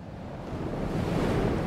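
Ocean surf rumbles in a steady, broad wash of noise that swells slightly louder toward the end, with no voices present.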